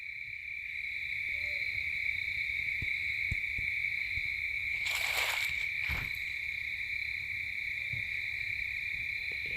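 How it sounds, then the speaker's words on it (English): An owl hoots softly in the distance at night while a dense chorus of crickets keeps up a steady, loud, high drone, broken once by a brief rustling burst. "I just heard the owl sound as I was turning that on."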